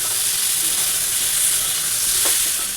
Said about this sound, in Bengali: ওদিকে কচুর আর আলু তরকারি বসিয়ে দিয়েছি ভাজা হচ্ছে তো